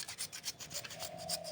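A potato is rubbed against a grater in quick, rhythmic rasping strokes, faint and close, with a steady back-and-forth scraping and no speech.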